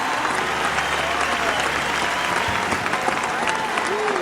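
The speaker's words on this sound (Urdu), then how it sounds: "آپ کو اپنی پرجوشی کے لیے تالی بجانی چاہیے۔" A church congregation applauding loudly and continuously, a dense wash of clapping with some crowd noise mixed in.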